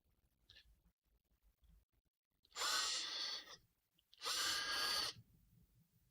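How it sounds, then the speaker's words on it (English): A power drill bores out tight holes in a new front plate for a 3D printing build, two loud whirring bursts of about two seconds each, close up, separated by a short quiet gap. "I need to drill these out real quick because they're a little tight."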